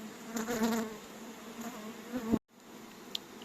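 Honeybees buzz loudly at a hive where drones are being driven out before winter, a dense steady drone close by that cuts off abruptly near the end, leaving a fainter hum.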